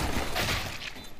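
A quick burst of video game gunfire, several rapid shots in under a second, moderately loud and punchy with no talking.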